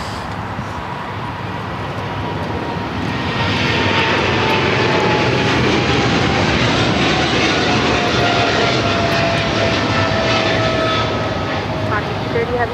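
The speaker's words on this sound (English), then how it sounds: "DHL 777 freighter now rolling 25 left" A DHL Boeing 777 freighter rolls for takeoff on runway 25 left at LAX, its engine roar swelling from a steady rumble to a loud, sustained blast, with a faint rising whine running through it.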